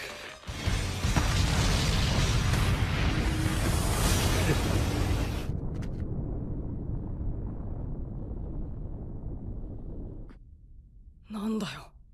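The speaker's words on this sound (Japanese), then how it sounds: "あれは起爆札の爆発だ。" An anime explosion from ninja explosive tags bursts into a loud, broad roaring blast that rumbles for several seconds, then a lower sustained rumble fades out, followed by a brief voice.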